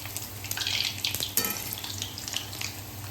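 Corn pakoras, bhajiya, bubble in hot oil over a low flame with a soft, steady frying hiss, punctuated by a few sharper splashes and clinks, close and moderate in volume.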